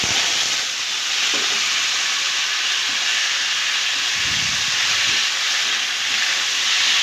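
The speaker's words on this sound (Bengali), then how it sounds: "এটা একটু হালকা নেড়ে চেড়ে ভেজে নেব।" Potatoes and tomatoes fry in a pan after cumin tempering, a steady broad hiss and sizzle running throughout with a few soft stirring knocks, close and fairly loud, no talk.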